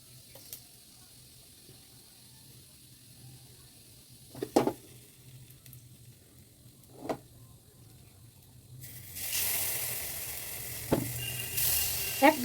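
Fish fry in about a spoonful of oil in a pan, topped with spices for a grilled fish dish. A few sparse clicks and taps give way to a steady, fairly quiet sizzling hiss near the end.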